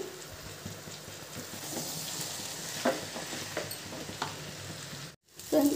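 Hakka noodles sizzle in a hot pan with a spoonful each of soy sauce and chilli sauce, and are stirred as they fry. The steady crackle runs loud and close, breaks off for a moment near the end, then resumes.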